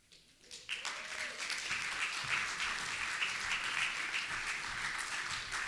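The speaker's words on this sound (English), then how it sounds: "So if we could give them a great round of applause" An audience at a community Hanukkah celebration breaks into sustained applause for the Chapel Hill Church Choir, a broad wash of clapping starting abruptly and holding steady.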